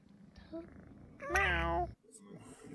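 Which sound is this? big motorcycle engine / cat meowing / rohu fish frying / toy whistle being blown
cat meowing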